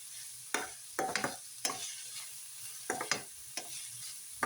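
Chopped vegetables with coriander, curry leaves and capsicum sauté in a pan, a soft sizzle underlying repeated scraping stirs of a spoon at irregular intervals, fairly quiet and close.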